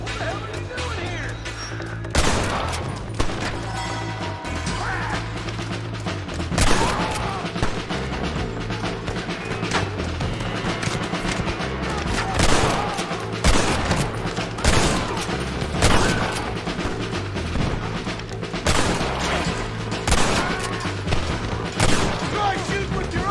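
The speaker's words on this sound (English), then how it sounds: "Try shooting with your eyes open!" A gunfight in Red Dead Redemption: loud, close gunshots crack out in irregular bursts over a steady musical and ambient bed, with shouted voices between volleys.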